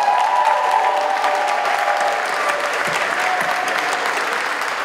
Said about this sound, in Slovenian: To je dejan aplavz